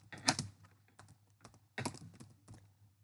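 Typing on a computer keyboard, a handful of quick key taps in two small clusters, close and fairly soft in a quiet room.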